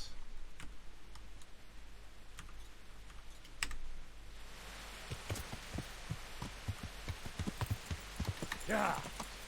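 Hooves clop in a quick, regular trot in the game Kingdom Come: Deliverance, faint at first and then closer and sharper, over a quiet background.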